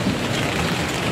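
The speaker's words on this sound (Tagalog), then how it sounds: "Ulan na nga." Heavy rain falling on a construction site where steel framing is being installed, a dense steady hiss of water striking surfaces, close and unbroken.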